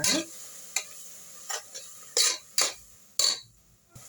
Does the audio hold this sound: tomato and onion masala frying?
yes